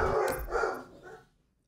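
A dog barks close by, two or three quick loud barks in under two seconds, then silence, with no talking.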